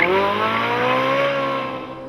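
A Ferrari 458 Italia pulls out of a second-gear hairpin on a track, its engine rising in a strong, steady tone with high harmonics as it climbs through the revs. No one talks.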